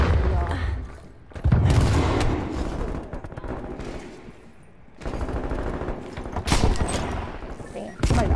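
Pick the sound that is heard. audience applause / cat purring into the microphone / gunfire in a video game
gunfire in a video game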